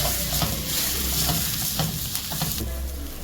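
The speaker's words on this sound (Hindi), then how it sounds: "थोड़ा सा इसे सौटे करेंगे ताकि प्याज का मॉइस्चर भी निकल जाए।" Onions sauté in a pan over a medium flame with a constant loud sizzle, and a spoon stirs with scraping strokes throughout. No one speaks.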